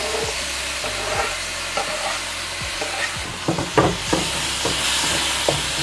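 Chopped tomatoes sauté in a pan for a paneer and capsicum curry, giving a steady loud sizzle broken by repeated scrapes and clinks of a spoon stirring, with no voices.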